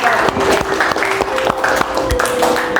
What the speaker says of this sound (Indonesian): Beri aplaus untuk Hanum dan Valda.